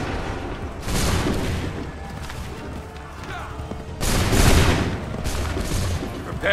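Massed musket volleys crash out during a Revolutionary War battle in Assassin's Creed III, two loud bursts of gunfire separated by a lull of battlefield rumble, with shouted orders faintly beneath.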